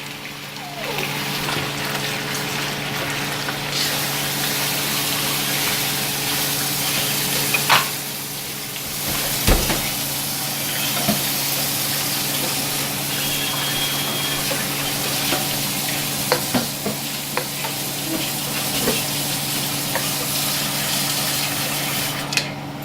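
Pork browning over low heat in melted sugar in a pan for Shanghai-style braised pork, giving a steady, moderately loud sizzle and crackle that runs throughout with small clinks and stirring bumps and no talking.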